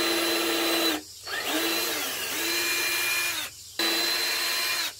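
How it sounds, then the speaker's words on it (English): A power drill bores holes into a bonsai pot during an olive bonsai repot, its motor whining steadily and close, with two brief pauses between bursts of drilling. "Now I'm just going to drill some holes."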